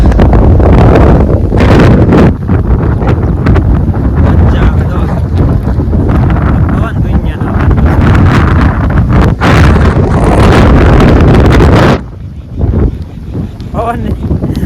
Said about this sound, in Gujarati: પવન તો જોવાય લગભગ વાવાઝોડું એવું લાગે